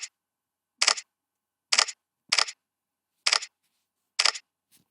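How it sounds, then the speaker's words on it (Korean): Samsung phone running One UI 8.5 beta plays its camera shutter and screenshot sounds: six sharp, crisp clicks spaced about a second apart, close and clear against silence. "카메라 셔터음과 화면 캡처음은 거의 동일하게 바뀌었습니다"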